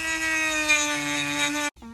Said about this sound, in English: you can also use your Dremel